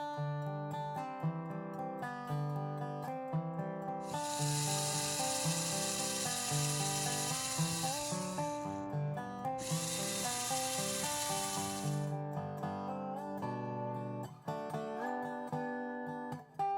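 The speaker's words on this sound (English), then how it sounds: "Now I'm sanding the edges of the frets to bevel them so that there's no sharp edges." Sanding the edges of guitar frets to bevel them on a handmade instrument: a steady rubbing abrasion with two long, bright, hissing strokes in the middle, close and continuous.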